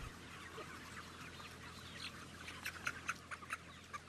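Chickens in a crowded factory farm shed give soft scattered clucks and chirps that grow busier toward the end, over a low steady ventilation hum, fairly faint overall.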